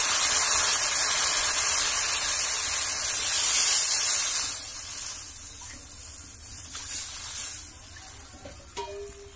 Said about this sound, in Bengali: ঝোলটা দিয়ে অনেক সময় ফুটাবো